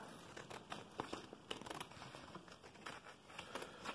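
Scissors cut out charcoal raven drawings on paper, giving soft, close crinkling and snipping with irregular small clicks, faint and continuous.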